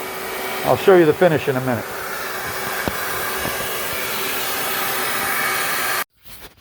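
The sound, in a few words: vacuum cleaner on pine floor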